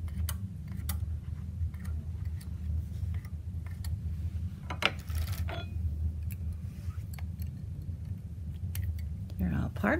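Needles on a circular sock machine being parked one after another, a series of small sharp clicks and ticks spaced irregularly over a low steady hum, with no talking.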